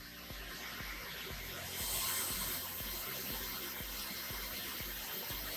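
Water runs steadily at a crosscut miter saw, a constant broadband hiss and splash that swells slightly partway through, steady and moderately close, with no voices.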